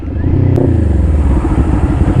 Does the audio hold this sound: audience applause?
no